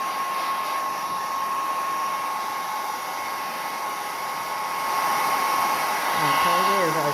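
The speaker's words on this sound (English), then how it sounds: "There's my hairdryer." A hairdryer blows in a steady, loud whine close by as it dries a loose watercolour painting on paper, with the pitch wavering slightly as it moves near the end.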